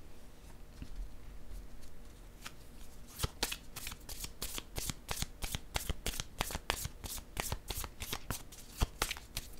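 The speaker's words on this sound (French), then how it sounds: "J'ai le goût de piger une carte sur celle-ci." Cards being shuffled and drawn from a deck, heard as quick, crisp riffling bursts and snaps that grow denser and more rhythmic after the first few seconds, close and alone with a faint background hiss.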